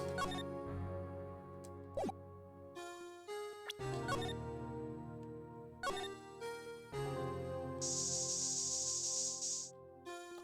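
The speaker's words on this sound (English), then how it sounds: "Let us use the spray." A spray can hisses in Phoenix Wright: Ace Attorney, a bright sustained burst of about two seconds late in the clip, heard over game music and sound effects with no talking.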